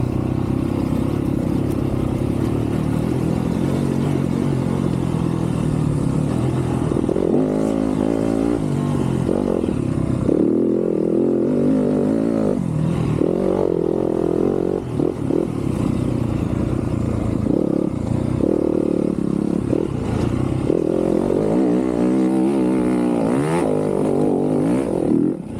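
An off-road motorcycle engine drones steadily along a dirt trail, loud and continuous, with rising and falling pitch as the rider shifts down through gears.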